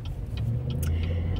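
Steady low engine rumble and road noise from inside a moving car, continuous and fairly loud throughout, with faint small rattles and clicks but no talking.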